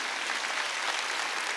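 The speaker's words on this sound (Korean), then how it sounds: "박수 좀 쳐요" A church congregation at an Easter Sunday service clapping together, a dense, steady wash of many hands filling the room without pause, with no talk over it.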